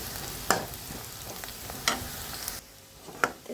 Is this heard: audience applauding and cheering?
no